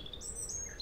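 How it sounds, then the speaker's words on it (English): Birds chirp outdoors on a Saturday morning around 7 a.m., a few thin, high tweets and short whistles scattered over a soft background hum. "maybe the birds are out there chirping"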